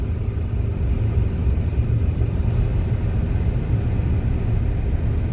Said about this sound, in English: And we are driving.